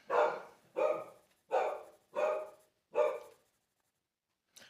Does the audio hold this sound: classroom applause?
no